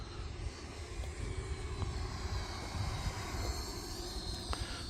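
Two E-flite Viper 90mm electric ducted-fan RC jets take off side by side over grass, a steady broadband roar of twin fans with a high whine, continuous and fairly loud throughout.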